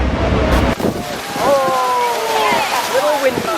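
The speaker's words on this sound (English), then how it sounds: "Oh, little windy. This is super windy." Strong wind buffets the microphone aboard a tour boat cruising toward Horseshoe Falls at Niagara Falls, a loud continuous rush with water noise beneath, while a voice speaks briefly over it.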